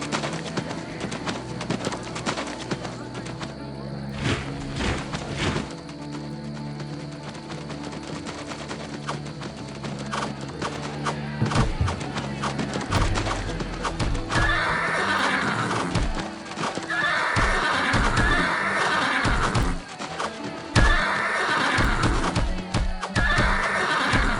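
Horses ridden by Isaurian raiders in the video game Empire Earth: continuous clip-clop of hooves with repeated neighs and whinnies, fairly loud, over game music, with a narrator speaking at times.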